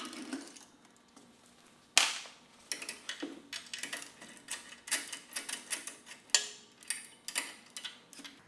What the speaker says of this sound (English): Still just using a T-handle here for the drive socket.